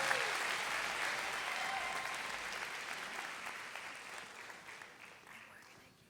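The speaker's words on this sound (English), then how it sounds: "Let's give another round of applause to these incredible students." Applause for students at a high school business pitch night, a dense sustained clapping from a sizable audience that gradually fades over several seconds.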